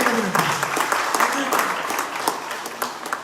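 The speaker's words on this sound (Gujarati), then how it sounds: "તાળીઓના ગડગડાટથી વધાવી." An audience at a Covid warrior award ceremony bursts into applause, a dense, brisk patter of many clapping hands, with speech heard over and around the clapping.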